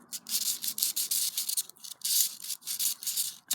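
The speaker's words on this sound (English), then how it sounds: "sand it in circles" A part from an old HPI Savage 25 RC car is rubbed in circles on sandpaper fixed to the floor, giving close, loud, continuous rasping strokes with brief pauses between passes.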